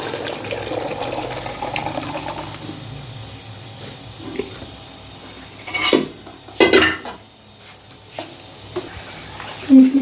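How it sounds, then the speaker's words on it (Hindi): Lentils tumble into a pot of ghee-fried chicken for haleem, with metal spoon clinks and scraping against the pot, sharp rattles, and a sizzling hiss in a home kitchen. "देखिए इसमें दाल शामिल करूँगी"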